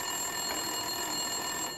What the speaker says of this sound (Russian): Звонил телефон Уинтерсон.